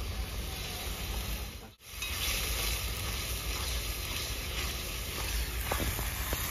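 Tomato paste and ginger-garlic paste frying for a rohu fish curry with potato and papaya, a dense continuous hiss and sizzle, close and steady apart from a momentary break early on.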